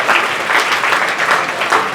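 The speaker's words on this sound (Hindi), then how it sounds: "बहुत बढ़िया, तालियां बजाई, जोड़ दिए।" A class of students claps together at a group religious lesson in Vishwas Nagar, Delhi, dense even applause filling the room, loud and close with no talk over it.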